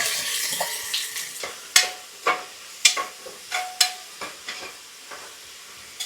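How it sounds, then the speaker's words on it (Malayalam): Chopped onion dropped into hot coconut oil in a cooker sizzles and hisses in bursts, with sharp knocks and scrapes of stirring spaced irregularly through the clip; no talking. "വെളിച്ചെണ്ണ ഒഴിച്ച് അടുത്ത് നമ്മൾ സവാള ഇടുകയാണ്"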